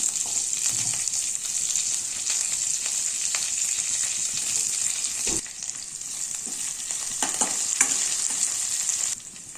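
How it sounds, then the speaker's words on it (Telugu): Onions, chillies and curry leaves frying in hot oil with a steady loud sizzle, punctuated by occasional stirring clinks and scrapes close by, with no voices. "ఇప్పుడు ఆనియన్స్, చిల్లీస్, కరివేపాకు వేసుకొని గోల్డెన్ కలర్ వచ్చేంత వరకు ఫ్రై చేయాలి"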